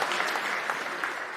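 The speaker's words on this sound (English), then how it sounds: "Claps are all right. Please feel free." Audience applause fills a conference hall at a Bitcoin event, a steady dense clapping from a large crowd, close and loud, with no talk over it.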